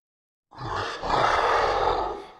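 A gritty monster voice distorted with a plugin bursts in after silence and swells into a sustained, rough roar.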